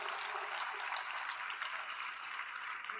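An audience at an awareness seminar claps continuously, a dense and even patter of many hands held at a moderate distance.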